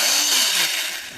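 A cordless drill runs low on battery, a steady bright motor whine that gradually weakens and drops in level toward the end, heard up close with no talking.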